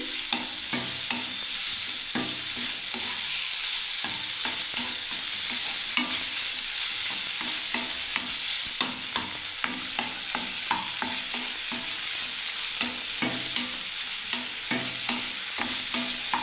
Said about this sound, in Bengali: আমার ছানাটা নাড়া হচ্ছে